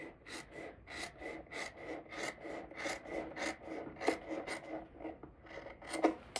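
Scissors cut through the thick layers of a sewn pocket flap seam allowance on a pair of pants, giving a steady run of close, dry rasping snips with no voices.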